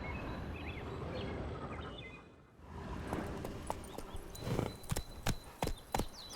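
Hooves of the horse Roach clip-clop in The Witcher 3: Wild Hunt, first as a steady walking rhythm under ambient noise, then a short pause, then louder, sharper hoof strikes with a few distinct close impacts.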